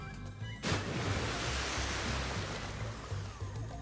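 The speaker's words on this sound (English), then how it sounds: "did a bunch of toilet water just get splashed over me?" Water in SpongeBob Battle for Bikini Bottom Rehydrated bursts into a sudden splashing rush, then keeps churning as a broad, washing noise for several seconds, fairly close and moderately loud.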